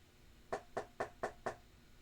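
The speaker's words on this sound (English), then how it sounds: "Clearly someone is knocking on the wall." Five evenly spaced knocks on a wall, dull and thudding rather than woody, in a quiet room with birds chirping faintly outside.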